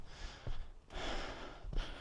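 Heavy, ragged panting from a person hiking uphill in Madeira, close to the microphone, with breaths rising and falling unevenly over outdoor wind noise.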